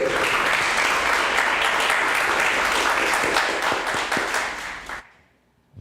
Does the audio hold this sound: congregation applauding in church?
yes